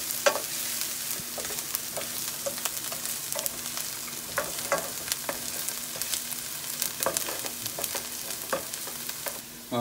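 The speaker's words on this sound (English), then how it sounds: "my onions and my garlic, I've sauteed them, they nice and brown" Onions and garlic sautéing in a pan until brown: a steady, soft sizzle with scattered clinks and scrapes of stirring throughout, close and without any talking.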